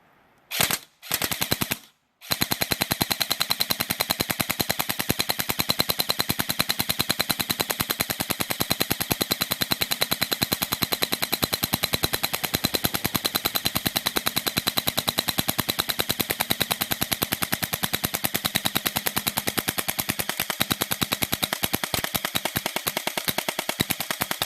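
A firearm empties a 400-round high-capacity magazine during field testing of a sight shield, starting with a few separate shots and then settling into a long, loud, rapid continuous string of gunfire outdoors.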